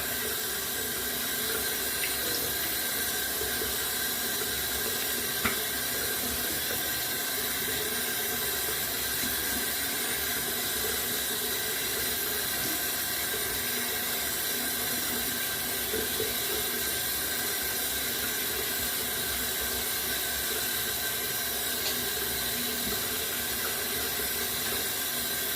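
A tap runs steadily at a sink for a long stretch, a continuous broad rush of water while a shaving razor is rinsed under it, with no talk.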